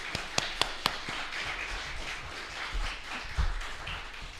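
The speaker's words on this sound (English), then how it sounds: "Can we have a great big round of applause for the musicians and Rev Jim and Rev Stephanie?" Church congregation applauding musicians after a service song, a few sharp claps at first, then a dense, moderate patter of many hands in a room.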